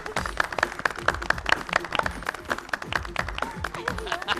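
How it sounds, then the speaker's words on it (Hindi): Studio audience applauding at an antakshari show, a dense run of claps that carries through the whole clip with some voices mixed in. "ताली बजा।"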